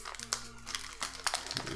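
Crinkling and tearing of a Yu-Gi-Oh Raging Battle booster pack's foil wrapper as it is opened, close up, with several sharp crackles over about two seconds and a voice talking underneath.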